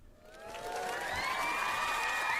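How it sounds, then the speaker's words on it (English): Crowd applause and cheering as a sound effect, swelling in after a quiet start into a loud, sustained roar of clapping and whoops that carries on to the end. "You get some claps."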